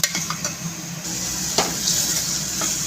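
Masala being stirred in a frying pan for a Nellore-style broad bean and egg gravy: scraping spoon strokes and clinks against the pan over a soft, steady sizzle, close up and without speech.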